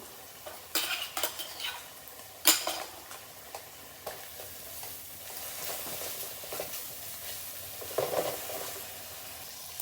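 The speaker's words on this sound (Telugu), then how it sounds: "కొన్ని కర్రీ లీవ్స్ కూడా వేసేస్తున్నాను" Soya pepper fry with coarse garlic and curry leaves sizzles in a pan, with a low frying hiss under sharp, irregular clinks and scrapes of a metal spoon as the mix is stirred.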